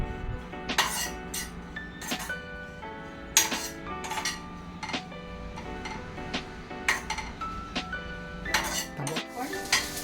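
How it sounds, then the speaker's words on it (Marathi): Onion and garlic roast in a pan for a village-style crab curry, heard as repeated metal clinks and scrapes of a spoon stirring against the pan over a faint sizzle, close and without speech. "पण कांदा आणि लसूण छान खरपूस भाजून घेणार आहोत"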